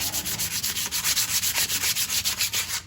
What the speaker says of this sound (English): You just want to take you some fine sandpaper and run over them.